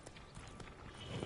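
Horse hooves clip-clopping in The Witcher 3: Blood and Wine, a short run of steady hoofbeats over a busy game soundscape, fairly close and moderately loud.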